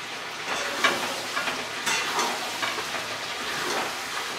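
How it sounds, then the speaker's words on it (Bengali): Meat braising and frying with kasuri methi sizzles steadily with a broad hiss, and faint stirring clicks come through now and then. "চলছে আমাদের মাংস কষানো"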